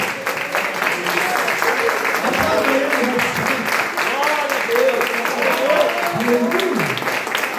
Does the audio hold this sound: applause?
yes